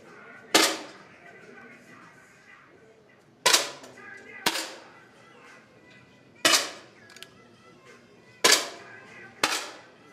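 Air rifles fired in a youth rifle gold-medal match, sharp cracks spaced a few seconds apart, six shots ringing out over faint hall murmur.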